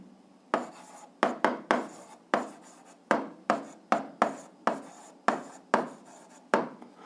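A pen writes algebra equations by hand on paper, giving a steady run of sharp, rhythmic strokes and scratches, close and clear, with no talk.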